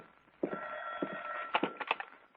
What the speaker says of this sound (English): it was about 11 o'clock when the phone rang.